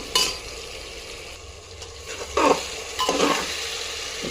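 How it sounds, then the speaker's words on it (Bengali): Onions frying in oil in a kadai with tomato and mutton fat for mutton kosha make a low sizzle, broken by several scraping stirs and clatters of a spatula against the pan, with no voices. "কড়াই তেল দিয়ে পেঁয়াজগুলো লাল লাল করে ভেজে নিচ্ছি"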